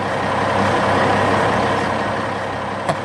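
Trucks hauling heavy loads across a bridge in a 3D cartoon rumble in a steady, loud engine drone with a brief clank near the end.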